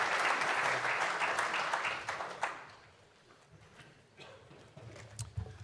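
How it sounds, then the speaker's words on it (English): Audience applause for the MC at an event, a loud dense burst of clapping for about two and a half seconds that fades out, then a few scattered claps and light room noise. "let's give one more round of applause for Dave Hunsiker, the MC this year"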